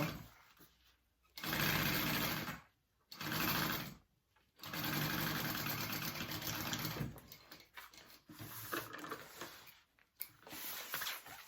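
Sewing machine basting a tote bag panel: bursts of fast, even mechanical whirring stitch along, stopping briefly between runs before a long continuous stretch, close and clear with no talk.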